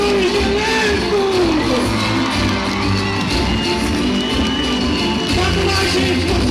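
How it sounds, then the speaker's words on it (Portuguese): Large crowd at a staged theatrical performance cheers, whoops and shouts in a continuous loud roar, voices rising and overlapping throughout with clapping blended into the din. "Aplausos aos coordenadores do elenco!"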